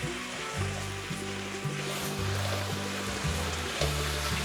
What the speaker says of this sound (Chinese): 放入煎好的面肠，快速翻炒，炒至收汁。